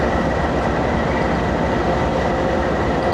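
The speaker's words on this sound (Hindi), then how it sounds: "कसूर जंक्शन से ट्रेन रवाना हो रही है" The Fareed Express pulls out of Kasur Junction with a steady, loud rumble of rolling railcars, a continuous low drone that holds even and close for the whole stretch.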